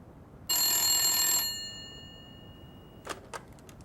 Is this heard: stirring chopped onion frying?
no